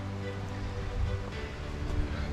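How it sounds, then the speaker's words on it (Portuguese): Steady, dense hiss of rain falling on a hiking trail up to the Cachoeira Horizontes waterfall, continuous and fairly close, with no talking. "40 minutos de caminhada e voltou a chover."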